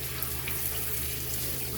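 Tap water runs steadily at a kitchen sink as a cut piece of pumpkin is washed, a continuous close splashing hiss with no pauses.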